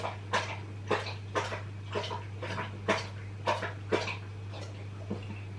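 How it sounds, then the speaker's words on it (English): A dog laps water from its bowl in a home kitchen, about a dozen rhythmic wet slurps roughly two per second over a steady low hum, close and moderately loud. "The dog's drinking."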